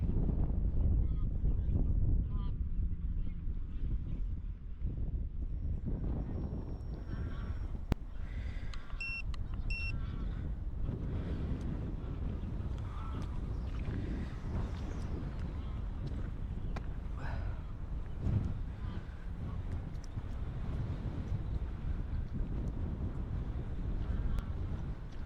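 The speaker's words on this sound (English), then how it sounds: "Boat's really struggling in this wind." Wind buffets a microphone beside Parkland Lake, with a struggling bait boat out on the water; steady broadband rumble and gusting noise fill the whole stretch, with a few faint electronic beeps partway through.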